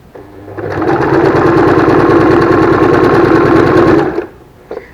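A sewing machine stitches a fabric face mask in one continuous, loud, close run of rapid needle strokes lasting about three seconds. It then stops, followed by a small click.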